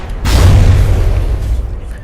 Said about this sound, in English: that's the side cannons, but they take a bit too long to fire for my liking, but they are much more lethal